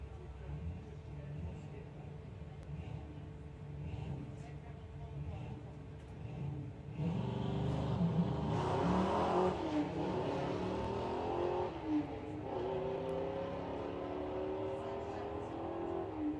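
BMW 4 Series drag car launching and accelerating down the strip at Santa Pod Raceway, a loud engine roar that swells about halfway through and stays strong to the end over steady background noise, with an announcer talking throughout.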